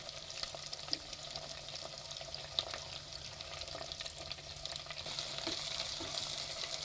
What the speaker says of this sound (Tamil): ரெண்டு வெங்காயம் கட் பண்ணி வச்சுருந்தாங்க அது போட்டுக்கிறேன்